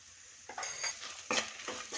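Spice powder being stirred and roasted in a pan for tomato bath, a spoon scraping in several short bursts over a faint sizzle, close and fairly quiet with no talk.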